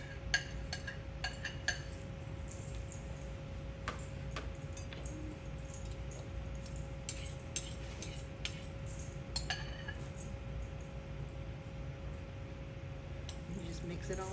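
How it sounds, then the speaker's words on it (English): Salad ingredients being mixed together in a bowl, giving a steady run of soft clinks, squishes and utensil taps against the dish, with low room noise and a faint hum underneath. "Now we're just going to bring our bowl over and mix all this together."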